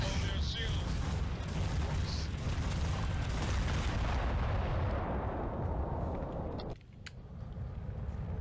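Ship-mounted guns firing during a space battle in the game Starfield, a dense continuous barrage of booming gunfire that fills the background and suddenly drops off near the end.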